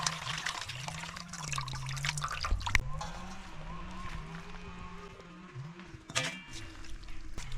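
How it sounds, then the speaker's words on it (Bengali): Cold tap water running and splashing while goat tripe is rinsed for a Bengali tripe curry, a steady trickle with brief sharper splashes, and a low hum beneath. "তো একটু ঠান্ডা জল দিয়ে ধুয়ে নিব।"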